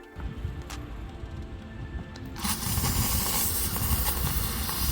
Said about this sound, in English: After 15 minutes, steam clean it.